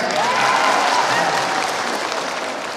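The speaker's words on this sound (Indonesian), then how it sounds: "Tepuk tangan buat Pak Ayah ini." An audience at a live religious study gathering claps together in a thick, sustained burst that tapers slightly toward the end, with faint voices mixed into the crowd.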